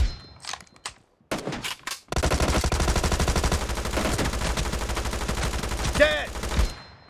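Rapid automatic gunfire in PUBG Mobile team deathmatch, a sustained loud burst of continuous shots after a few scattered earlier pops, dense and close throughout.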